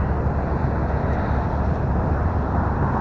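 Carbon Cub S2 radio-controlled plane at full throttle, a steady dense motor drone heavy with wind rush, even and continuous throughout with no voices.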